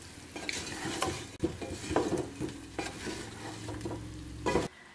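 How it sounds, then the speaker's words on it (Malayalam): Potato masala with garam masala is stirred in a hot pan, giving repeated scraping strokes of a spoon over a soft sizzle, close and fairly quiet. "ഇതും ഒന്നുകൂടി ഒന്ന് മിക്സ് ചെയ്യാം"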